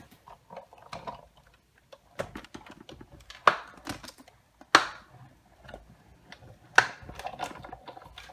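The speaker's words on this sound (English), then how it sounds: "And then I'm just going to run this through my Big Shot." Big Shot die-cutting machine cranking cardstock through, a series of irregular clicks and ratcheting ticks with a few sharper snaps, close and fairly quiet.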